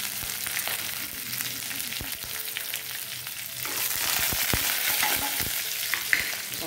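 Green chillies and whole dried red chillies fry in hot oil for an Andhra-style raw banana sabji, giving a steady close crackling sizzle that grows louder and busier partway through, with a few sharp pops and stirring clinks.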